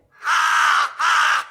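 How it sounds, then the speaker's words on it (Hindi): Two drawn-out, loud caws from a single crow, close and clear, with a brief gap between them and no other sounds. "इतने में एक कौवा दूर से आ रहा है।"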